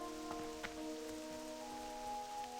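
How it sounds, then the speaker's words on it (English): Soft, steady rain falls in World of Warcraft Classic, a faint even patter with a few light drips over a low sustained musical drone, with no voices. "Oh, that nice rain. We've needed it out here."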